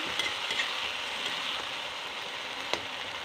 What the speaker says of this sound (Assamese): এতিয়া মই ধুনীয়াকৈ লৰাই দিম